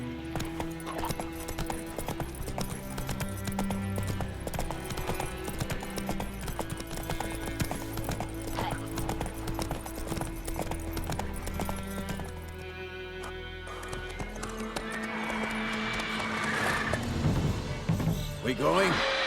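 Horse hooves galloping in The Witcher 3 video game, a steady clip-clop rhythm close by with whinnies, busy game music and voices throughout, growing louder and more chaotic toward the end.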